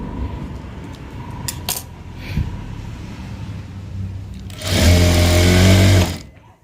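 A sewing machine stitches down the folded lower hem edge of a garment. Its loud, steady rapid chatter runs close for about a second and a half after a quieter stretch of faint handling noise.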